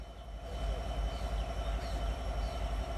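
A local train at a small railway station where only two local trains stop, heard as a steady, loud, continuous low rumble with faint rail clatter throughout.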